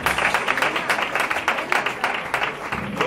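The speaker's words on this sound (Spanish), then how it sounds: "Den un aplauso al Señor bendito." A church congregation applauding together, steady dense clapping throughout that is loud and close, with no voices standing out.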